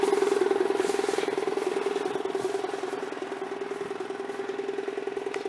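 A sawmill engine runs steadily while milling cedar telephone-pole bases into 8x8 blocking, giving a constant mid-pitched drone with a slight rattle that stays even throughout, close by and without talk.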